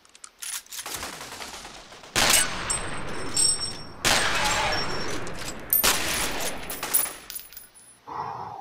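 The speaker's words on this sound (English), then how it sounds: "Let's switch back over to the shotgun." Shotgun blasts in the first-person shooter game F.E.A.R., three loud, sharp bursts spaced about two seconds apart, each trailing into a dense wash of combat noise before fading to quiet.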